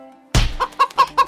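A cartoon chicken is struck by a ball that has bounced off a branch: a sharp impact thump, then four loud, evenly spaced clucks.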